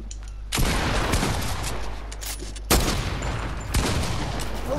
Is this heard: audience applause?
no